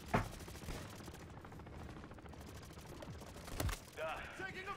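Sniper shots in a video game firefight, with two sharp, loud cracks standing out above a low rattle of distant gunfire, and a voice heard briefly.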